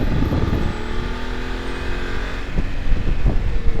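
Voge 900 DSX motorcycle, fitted with a BMW 900 engine, accelerating on a ride, a loud steady engine drone rising in pitch, with wind rush from close range.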